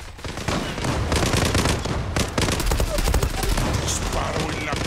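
Dense bursts of rapid MPT-76 rifle gunfire in the video game Zula crackle loudly and close, rattling in quick volleys with brief gaps, under faint Spanish talk.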